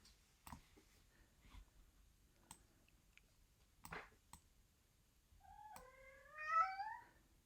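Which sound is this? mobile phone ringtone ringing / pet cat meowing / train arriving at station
pet cat meowing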